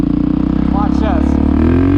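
A KTM supermoto motorcycle revs hard up through the gears, a loud close engine roar with rising pitch sweeps as it shifts, while someone talks excitedly over it.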